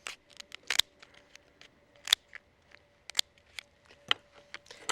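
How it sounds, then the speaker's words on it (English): Sturdy kitchen scissors snip down the back shell of a Moreton Bay bug, a series of sharp, crisp crunching clicks in an uneven rhythm, close and fairly loud, with a faint steady hum underneath. "The first step is to cut it down the back using sturdy scissors"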